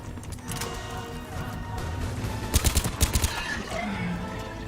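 Assault rifle fire in the sci-fi shooter Mass Effect 3: a quick burst of sharp, evenly spaced shots stands out midway over a steady hum of background combat, moderately quiet overall.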